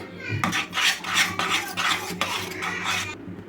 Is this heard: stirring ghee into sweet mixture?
yes